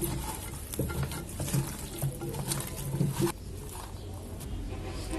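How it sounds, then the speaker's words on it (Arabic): Chicken pieces and potatoes are turned over with spices and onion, giving soft, wet, irregular scraping and squelching strokes at moderate volume, with quieter settling sounds toward the end. "وبعد ما قلبنا الفراخ مع البطاطس في التتبيله في البصله"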